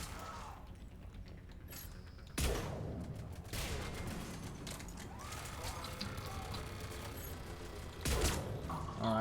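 Gunfire crackles in Mass Effect 3 Legendary Edition during a renegade playthrough, with sharp bursts and sustained shooting over ambient battle noise, fairly faint, while a player talks throughout.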